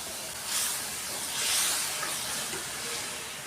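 A loud burst of hissing steam as a little water hits hot crab masala in a pan, swelling and fading in waves over a few seconds.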